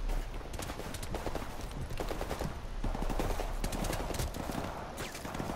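Gunfire in the video game Call of Duty Modern Warfare, rapid bursts and scattered shots crackling over a dense, constant battle din with clattering movement, steady and fairly loud throughout.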